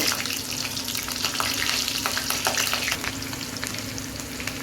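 Chilies frying in hot oil in a kadai for vegetable chowmein give a steady, close sizzle that runs throughout, with light stirring scrapes on top and no talk.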